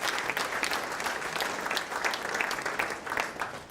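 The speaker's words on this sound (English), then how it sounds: "how about a big round of applause for Amy" Audience applause for a donor at a charity auction during a food and wine gala, dense steady clapping from a crowd lasting the whole stretch.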